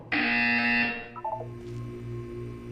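A loud, steady electronic buzzer in the game Portal 2 drones for about a second, then cuts off, leaving softer beeping tones and a low hum in the background.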